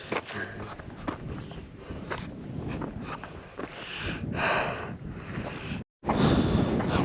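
Gusty wind buffets the microphone on a mountain trail up Mt. Elbert in Colorado, a rough, fluctuating roar that swells and drops, with a brief cut of silence near the end.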